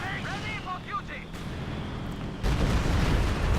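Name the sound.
Stuka dive-bomber barrage in the Company of Heroes 2 video game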